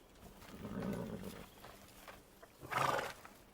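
A horse whinnies once, a drawn-out call followed by a shorter, brighter neigh near the end, moderately close, with no talking.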